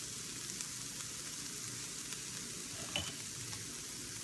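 Jalapeno, red bell pepper, garlic and onion sizzle steadily in a hot pan on a grill, a continuous frying hiss with soft crackles and one brief stir-like clatter near the end.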